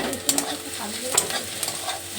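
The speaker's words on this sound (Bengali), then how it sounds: "পেঁয়াজটা আমি লাল লাল করে ভেজে নেবো পেঁয়াজটার জন্য।" Onions frying in a pan, a continuous sizzle with intermittent stirring scrapes and clinks of a utensil, nearby and with no voices.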